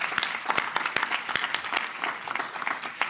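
Round of applause at a press conference, a dense burst of many hands clapping close by, steady and lively for a few seconds without talk over it.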